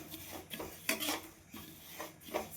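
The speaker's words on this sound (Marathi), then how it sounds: "पण भाजून घेते" Seeds for a homemade digestive mouth freshener being roasted and stirred in a pan, with a utensil scraping and rasping across the pan in several short, close strokes.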